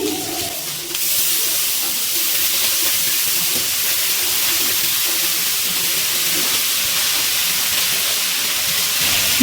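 Grated radish added to a hot pan with peas for a vegetarian dish, a short softer moment followed by a loud, steady, close hissing sizzle that holds evenly to the end.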